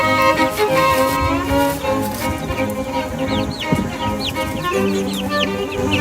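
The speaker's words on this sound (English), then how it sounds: "there's the meat chickens." Meat chickens on an 11-acre homestead cluck steadily in a dense, close flock chorus, with occasional higher squawks over the continuous murmur.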